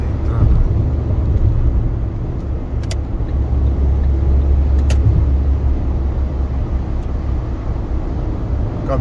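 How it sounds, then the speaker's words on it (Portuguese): A truck carrying iron turbines rolls past on the BR-101 highway near Enseada de Brito, a loud, steady roar of engine and tyres that holds throughout, with no talking. "Caminhão aí levando umas turbinas de ferro."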